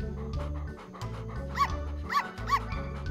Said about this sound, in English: Oh, look! An adorable litter of puppies!